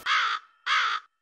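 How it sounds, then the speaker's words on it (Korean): A crow caws twice, two harsh, evenly spaced calls, loud and near, with a short silence between them. "까마귀."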